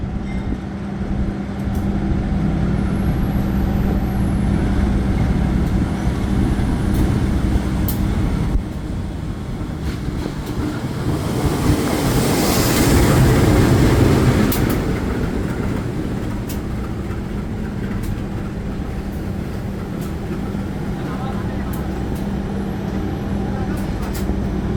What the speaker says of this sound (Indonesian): ini dia kereta api Pasundan dari arah Kiara Condong Bandung menuju ke Surabaya Gubeng.